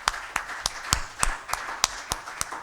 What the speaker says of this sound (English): requesting you to thank the panelists through applause.